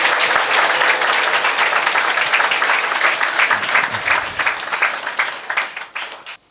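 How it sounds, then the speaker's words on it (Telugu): A church congregation at an Easter Sunday service claps with both hands, a dense, steady wash of applause that carries on for several seconds before thinning and tapering off at the end. "2 చేతులతో చప్పట్లు కొడుతూ ఆయన నామాన్ని మహిమపడుద్దాం."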